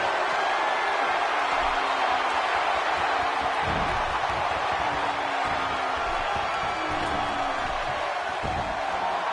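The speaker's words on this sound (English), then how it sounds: "This crowd going crazy for Stone Cold Steve Austin" A video game wrestling crowd in WWE 2K16 roars for Stone Cold Steve Austin. The noise is a dense, steady wall that holds loud for the whole stretch, with faint voices mixed in.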